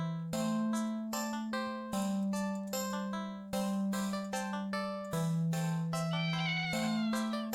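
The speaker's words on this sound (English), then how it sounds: "Make it halfway up the alley when the cat meows almost pitiful at you." A video game cat meows pitifully again and again: drawn-out, tonal, plaintive cries follow one another in close succession, loud and up front over a steady low hum, with no voices.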